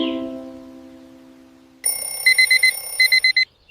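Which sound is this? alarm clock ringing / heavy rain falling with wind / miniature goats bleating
alarm clock ringing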